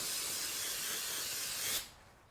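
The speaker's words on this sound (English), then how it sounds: "Let me get some brake clean." Brake cleaner sprays from an aerosol can onto a drained transmission pan from a 2012-2019 Subaru Legacy/Outback TR690, a loud, close, continuous hiss that stops abruptly after about two seconds, followed by a faint short tail.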